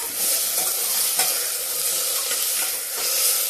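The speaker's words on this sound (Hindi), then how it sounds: "देखिए दोस्तों ये सब्जी मेरी भून गई है" Mixed leftover vegetables are stirred while frying in a pan, giving a steady loud sizzle with scraping strokes of the spoon close up and no talking.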